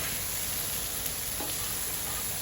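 Chicken pieces for Philly sandwiches cook fast in a hot pan with onion powder, giving a steady, even sizzle that fills the whole stretch without any voices.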